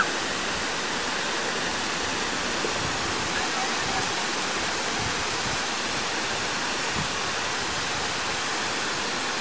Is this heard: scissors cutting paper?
no